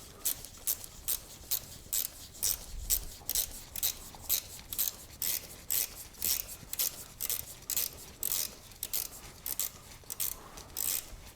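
An 8mm spanner tightens a bolt on the rear brake of a Honda CB500X motorcycle, producing a steady series of quick, close metallic ratcheting clicks in regular strokes, fairly faint.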